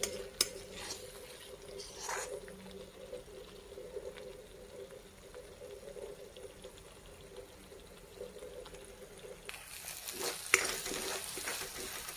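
Masala spices sizzle and fry in a pan while cooking a drumstick-pod (shevga) curry, a steady low crackle with occasional stirring and a brief louder clatter of utensils near the end.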